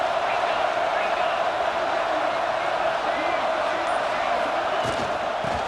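A stadium crowd in a college football video game keeps up a dense, constant roar, loud and unbroken with no distinct cheers standing out.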